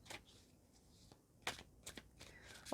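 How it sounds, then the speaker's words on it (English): Tarot cards being shuffled by hand close up at a reading table, a steady stream of crisp riffling and slapping card sounds with irregular louder flicks, alone without talking. "we'll start shuffling the cards"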